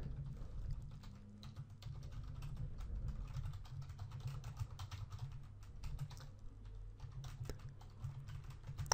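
Steady computer keyboard typing while writing code, a continuous quick patter of key clicks with a low hum underneath and no talking.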